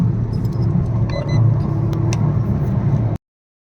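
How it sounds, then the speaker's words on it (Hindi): Toyota Urban Cruiser running on CNG, its engine droning steadily from inside the moving car with road noise and a few light clicks, then cutting off abruptly. "गाड़ी का साउंड देखिए कितना प्यारा साउंड है गाड़ी का"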